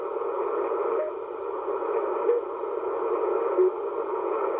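An HTX-100 amateur radio receiver is fine-tuned with its RIT control on a sideband signal, giving a steady hiss and garbled sideband audio with faint warbling tones drifting through, moderately loud and continuous with no clear talk.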